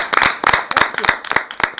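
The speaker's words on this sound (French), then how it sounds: "Applaudissez pour l'enfant." A small group claps for a child at a Christmas church gathering, close and fairly loud, in quick uneven bursts of individual claps rather than a smooth wash.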